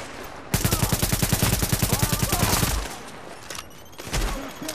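Rapid automatic gunfire in the video game The Division rattles out in a loud, steady burst of evenly spaced shots for about two seconds, then tapers into quieter scattered shots and game noise.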